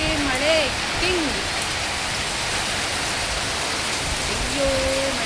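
Heavy rain pouring down in a village during a downpour, a steady dense hiss throughout, with a few faint bird calls and a voice briefly audible at the edges.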